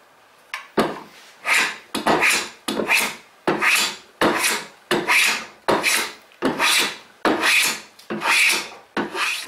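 A hand plane takes repeated shavings off a wooden table leg being tapered, about a dozen crisp rasping strokes in a steady rhythm, each loud and close with short pauses between.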